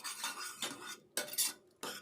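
A spoon stirs softly cooked dal in a pressure cooker pot, giving four short scraping, squelching strokes with brief pauses between them, close and fairly quiet.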